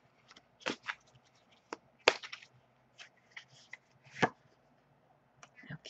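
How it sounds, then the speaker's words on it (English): A deck of oracle cards is shuffled by hand, giving a series of sharp, irregular snaps and riffles that are close and fairly quiet against near silence. "As I shuffle the deck"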